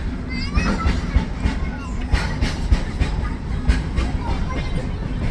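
Train rumble and rhythmic clatter at Sevagram Junction station in Maharashtra, India, with voices of people and children talking in the background.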